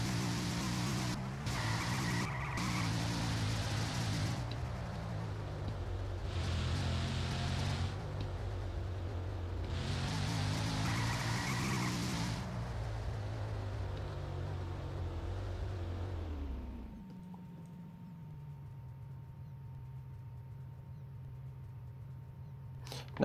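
A car drives in a Unity game demo, a steady engine drone with shifting pitch and bursts of hissing tire noise for about seventeen seconds, then dropping to a quiet low hum with a thin tone.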